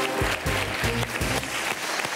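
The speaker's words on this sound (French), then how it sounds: "On les applaudit très fort." Studio audience on a French TV show applauding guests, steady loud clapping throughout with a few louder claps standing out.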